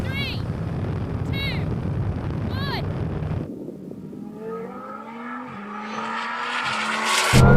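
A Bugatti Chiron Super Sport, a 1600-horsepower Lamborghini Huracan and a rallycross Mini accelerate hard from a rolling start in second gear. Heavy wind roar gives way to rising engine notes that climb through gear changes, with people talking over the start.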